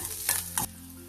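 Crushed garlic fries in oil with a close, continuous sizzle, broken by two quick stirring scrapes in the pan before it settles back to a quieter hiss.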